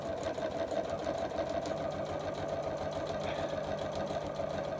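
A sewing machine runs steadily through a straight stitch, a continuous even mechanical hum and rapid needle clatter at moderate volume with no pauses.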